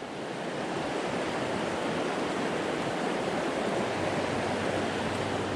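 River rapids at Riven Rock, heard as a steady, dense roar of rushing water that stays close and loud throughout, with no voices.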